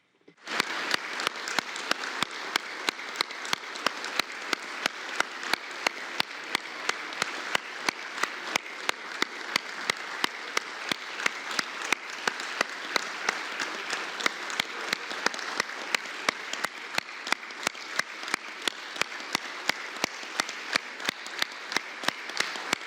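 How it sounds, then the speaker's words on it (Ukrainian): Members of the Lithuanian parliament (Seimas) applaud a visiting Ukrainian delegation in a session hall, a long, steady and fairly loud round of clapping that settles into a slow rhythmic unison beat. "Зустріньмо їх аплодисментами."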